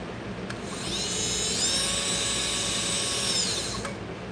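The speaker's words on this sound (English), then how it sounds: "sharpening your gravers by using rubber wheels" A jeweler's graver held at an angle against a spinning rubber sharpening wheel, a steady motor whine that rises as the tool bites in, holds for a few seconds, then winds back down.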